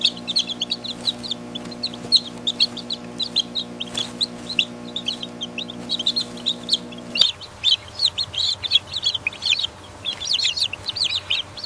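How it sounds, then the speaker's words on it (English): Orpington chicks rushing to feed pans in a large production barn chirp and cluck busily in dense, overlapping bursts, with a steady machine hum underneath that cuts out partway through. "Orpington chicks rush towards the pans to eat."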